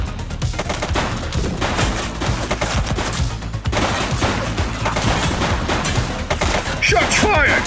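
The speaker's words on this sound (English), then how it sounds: "Shots fired!" Rapid bursts of gunfire from a police shooter video game set in a city precinct, loud and sustained with overlapping shots and booms throughout.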